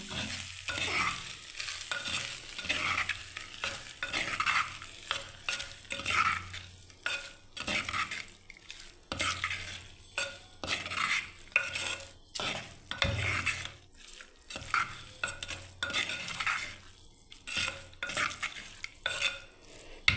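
Curd rice gets mixed by hand with added ingredients, a continuous close run of wet squelching and stirring with small scrapes and clinks against the dish, uneven in rhythm and with no talking.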